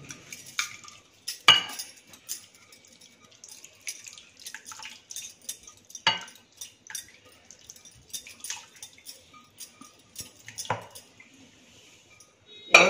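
Cooked vegetables are scooped from a pressure cooker into a large pot, giving irregular metallic clinks and scrapes of a spoon against metal with wet dripping and sloppy plops, close and intermittent over quiet gaps.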